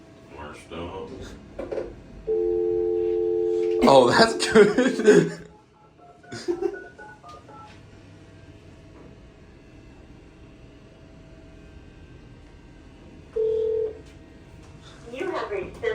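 A steady electronic dialing tone from an elevator emergency phone sounds for a couple of seconds, followed by a brief second tone later, with people talking around it.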